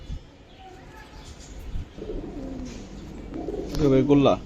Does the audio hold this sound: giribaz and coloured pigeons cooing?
yes